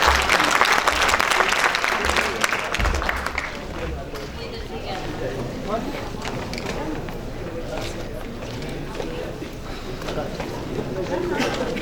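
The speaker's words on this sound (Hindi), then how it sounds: "आप स्वागत करें श्री त्रिपाठी जी का तालियों से।" Audience applause at a Hindi book launch ceremony, loud at first and then settling into lighter, scattered clapping mixed with crowd murmur throughout.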